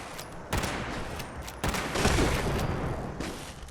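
Explosion and bursts of gunfire in the video game Fallout 76, loud sharp blasts at about half a second and again near 1.7 seconds, followed by sustained rattling fire and rumble with no talk.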